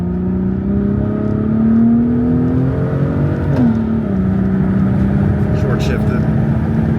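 A Ford EcoBoost engine in a heavy truck pulls hard under acceleration, its rising drone dropping briefly at a gear change before climbing again, with a person talking over the steady engine noise.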